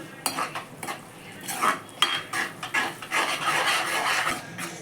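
Chicken curry with green chillies being stirred in a pot over a high flame, repeated scraping and clattering of a spoon against metal in uneven bursts, close and fairly loud with no talking.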